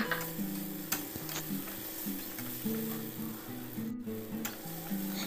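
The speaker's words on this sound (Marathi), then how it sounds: "10-12 लसणाच्या पाकळ्या आणि आलं याला मी खलबत्त्यात थोडं जाडसर कुटून घेतलं आहे। याला पण परतून घेऊ।" Coarsely crushed garlic and ginger sautéing in a pan with curry leaves, a soft steady sizzle punctuated by light scraping and stirring taps of a spoon, heard up close with no talking.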